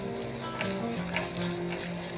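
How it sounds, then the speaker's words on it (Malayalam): Grated ginger and garlic sauté in a pan, a short, steady sizzle with some faint stirring texture and no voices. "ഇഞ്ചി വെളുത്തുള്ളിയുടെ പച്ചമണം പോകുന്ന വരെ നമുക്കിതൊന്ന് വഴറ്റിയെടുക്കാം"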